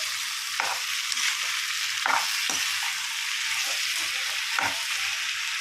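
Drumstick curry being stirred in a frying pan: a steady sizzle runs throughout, broken by a few sharp scrapes of the spoon against the pan, close and fairly loud with no talking.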